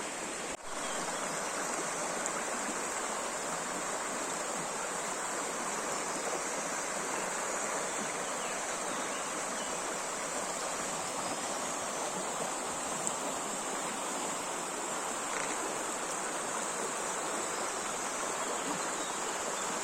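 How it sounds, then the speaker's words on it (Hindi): A river flows through a natural park in Nice, France, giving a steady, broadband rush of running water that stays even and continuous throughout, with no voices. "पार्क में नदी बहती है।"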